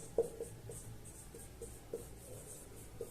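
A teacher's pen or chalk writes the maths formula for the volume of a hemisphere, two-thirds pi r cubed, during a Class 10 surface area and volume lesson: faint, scattered taps and scratches over a low room hum.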